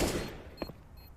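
Counter-Strike gunfire ending in a headshot: a brief burst of loud shots followed by a couple of short sharp cracks, quick and close, with no talk.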